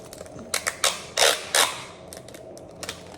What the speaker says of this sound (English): You know, this tape is noisy.